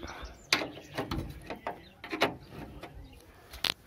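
A ratchet clicks in short irregular bursts while unscrewing 8 mm bolts from the body of a Citroën Ami 8 under restoration, with close metallic knocks and pauses between turns.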